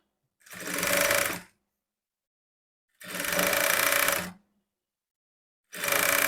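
A sewing machine stitches a blouse in three separate bursts of about a second each, a steady close whirring with short silent gaps between runs.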